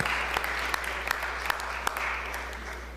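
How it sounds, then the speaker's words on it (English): Applause in a state House chamber welcoming guests to the Capitol, a steady wash of many hands clapping at a moderate distance over a low hum, with a few sharper single claps standing out. "give them a round of applause"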